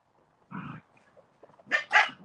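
A ten-week-old puppy lets out a low grumbling woof, then after a pause two sharp, high yips in quick succession, close by.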